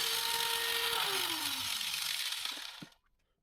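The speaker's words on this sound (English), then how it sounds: "I cut 4 pieces of the round bar that are 5 centimeters long." A power tool cuts through 8mm stainless steel round bar to make short pins, giving a loud, steady grinding rasp with a whining motor that drops in pitch, winds down and stops near the end.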